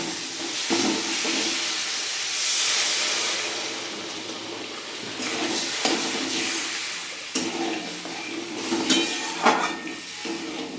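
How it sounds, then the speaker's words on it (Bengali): Water poured into hot spice paste frying in oil for a Bengali fish curry, a steady broad sizzling hiss with scattered crackles and light clinks of a pan, close and fairly loud, no voices. "মশলা থেকে তেল ছেড়ে গেছে, এবার আমি জল দিয়ে দেবো।"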